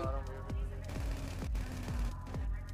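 Rapid bursts of gunfire ring out in the video game GTA V roleplay, a series of sharp repeated shots spaced about half a second apart, loud and close over a steady background.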